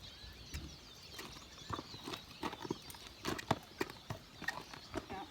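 Hooves of a ridden Missouri Fox Trotter horse clop in a steady, uneven rhythm, fairly close and moderately loud, with faint bird chirps in the background.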